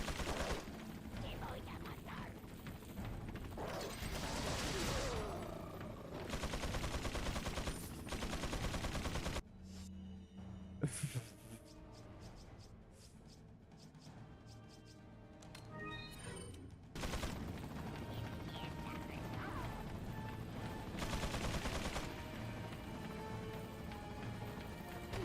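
Turret gunfire in the video game Resident Evil 4, dense rattling bursts in two loud stretches with a quieter gap between, heard alongside game sounds.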